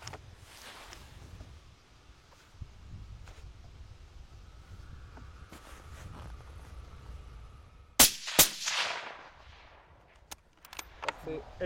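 A hunting rifle is fired while being sighted in at 100 metres outdoors in the Gers. After a quiet stretch of wind and rustling there is one sharp, loud shot, followed by a few fainter knocks and clanks.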